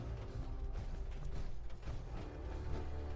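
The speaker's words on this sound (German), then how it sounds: "Tür öffnen." A heavy mechanical door grinds open in Fallout 4, a continuous creaking, ratcheting churn of gears with low rumble that holds steady and fairly loud for a few seconds.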